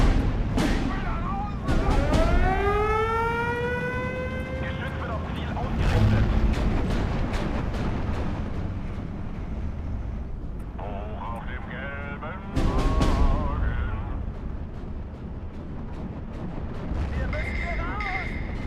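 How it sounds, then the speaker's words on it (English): Artillery fire in the Steel Division WW2 strategy game: repeated heavy booms and blasts land at intervals, mixed with whistling shells and a continuous rumbling battle din, with a voice talking at times. "So artillery is constant."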